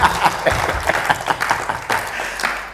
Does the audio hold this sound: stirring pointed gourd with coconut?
no